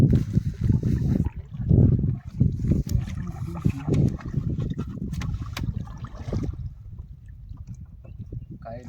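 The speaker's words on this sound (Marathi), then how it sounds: "एक वर्षाने होडी चालवतोय" A rowboat pulled across open sea during a Ganesh immersion outing, with steady low water churning and splashing close by, fading somewhat toward the end, and faint voices mixed in.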